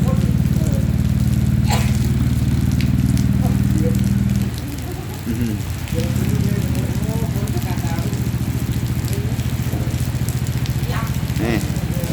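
Rain pattering on a shelter roof over a parking yard, a steady, dense hiss that continues for the whole stretch, easing slightly for a moment midway, with faint voices underneath.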